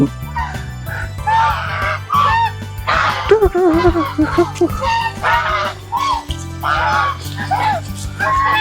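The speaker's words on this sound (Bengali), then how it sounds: "এই যে আমাদের প্রিয় রাজার হাঁস আছে এখানে" White geese at an eco park honk repeatedly in bursts of nasal, harmonic calls, loud and close, overlapping one another above a low, steady hum.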